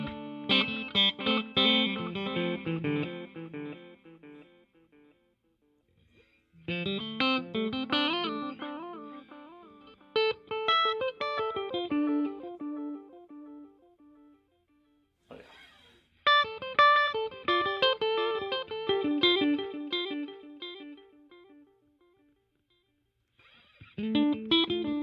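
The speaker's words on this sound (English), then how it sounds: "So here, I'm just trying to let you hear the difference in the tone for the repeats" An electric guitar played through a Donner delay and reverb pedal, with strummed phrases separated by pauses while echoing repeats trail off after each burst.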